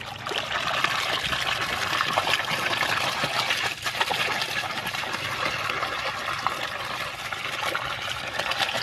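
Water gushes steadily from a generator's water pump outlet, a close, continuous rushing splash with no pauses and no voices over it.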